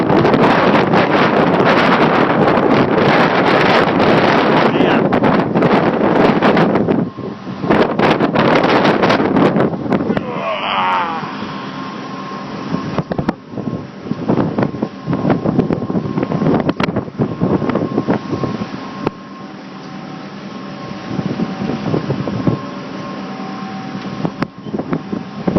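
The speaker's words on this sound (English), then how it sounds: "got wind there" Strong wind roars over the microphone while sailing a boat on Lake Erie, loud and steady at first, then dropping to a lighter, gusty rush with some rustling and buffeting for the rest.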